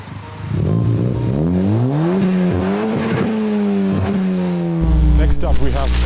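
A Ford Fiesta ST engine revs up through rising and falling pitch, loud and close, then settles into a steady rumble with a brief burst of noise near the end.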